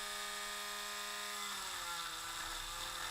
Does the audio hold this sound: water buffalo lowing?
no